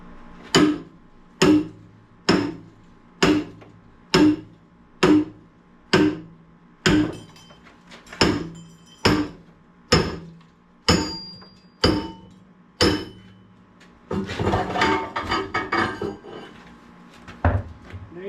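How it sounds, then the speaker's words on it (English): A big sledgehammer strikes bolted-together scrap metal pieces about a dozen times in a steady rhythm, each blow a loud ringing clang, followed by a few seconds of rattling and scraping as the metal is pried apart with a crowbar. "you just get a big sledgehammer and crowbar and"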